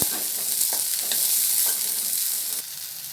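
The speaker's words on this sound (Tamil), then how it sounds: "உரிச்ச பூண்டை ஒரு 8 பல்லு சேர்த்துக்கிறேன். எண்ணெயிலே வதங்கி வரட்டும்." About twenty small onions and eight peeled garlic cloves sauté in hot oil in a pan for a black chickpea curry, giving a steady close sizzle with soft stirring scrapes throughout.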